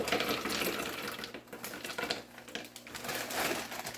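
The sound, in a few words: frozen blueberries being poured in for juice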